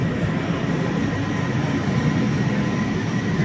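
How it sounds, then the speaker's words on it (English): An RTA Blue Line commuter train rolls along near Tower City in Cleveland, Ohio, giving a steady, loud low rumble of wheels and car noise that holds constant throughout with no voices. "After boarding the Blue Line commuter train at Tower City, we would ride it to the end of the line"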